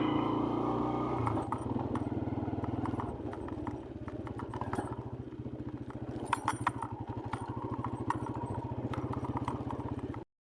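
Motorcycle riding along a rough, poorly made track on the route to Chandral Point at Mangla Dam, with a steady engine drone and rapid rattling, clattering pulses running throughout at close range.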